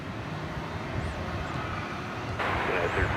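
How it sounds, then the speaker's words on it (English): An American Airlines jet arriving at DFW Airport gives off a steady, broad engine roar at moderate distance, growing louder and brighter toward the end, with a voice talking quietly underneath. "American Flight 681 coming in from Cancun."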